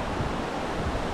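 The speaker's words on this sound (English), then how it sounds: "there is the waterfall" Steady, loud rushing water from a waterfall in Kalagarh Tiger Reserve, Uttarakhand, a dense continuous roar without breaks.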